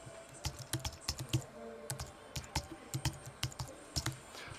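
Soft, steady typing on a computer keyboard, a quick run of light key clicks in uneven rhythm, close and fairly quiet with no talking.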